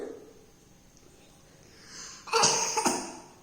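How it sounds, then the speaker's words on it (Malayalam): A child coughing at home, with a soft breathy lead-in and then two sharp, loud cough bursts close to the microphone near the end. "ഭയങ്കര ചുമയാണല്ലോ."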